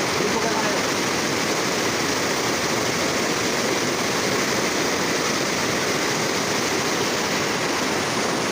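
Floodwater rushes past in a steady, dense roar of moving water, continuous and close, with no break or change through the whole stretch.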